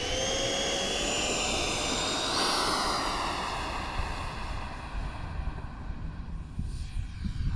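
3D-printed Grumman F11F Tiger RC jet on a 50mm electric ducted fan flying past, a loud high-pitched whine that shifts pitch as it passes, then fades into wind and distant outdoor noise.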